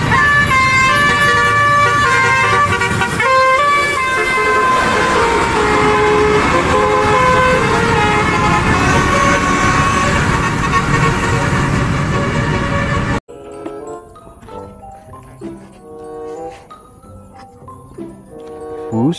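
A loud, continuous police patrol bus siren with horn tones wails for most of the clip, then cuts off abruptly, leaving quieter, choppy horn sounds.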